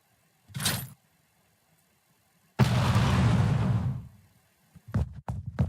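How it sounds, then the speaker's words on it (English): A grenade going off in a video game engine, knocking over stacked crates: a short burst comes first, then a sudden loud blast that roars for over a second before fading, followed by several sharp knocks and clatters. "it knocked down all those crates there from its explosion over here"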